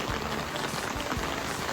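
Steady typhoon rain from Ada hisses and patters close by, an unbroken wash of drops with occasional dull low taps and no talking.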